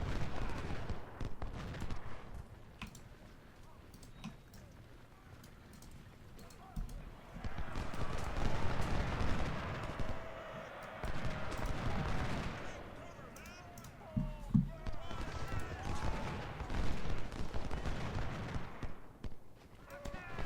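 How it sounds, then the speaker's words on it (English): Artillery and musket fire from the Civil War strategy video game Ultimate General: Civil War: repeated distant booming volleys and crackling bursts that swell and fade over a constant low battlefield rumble. "our artillery is just gonna beat the snot out of them now"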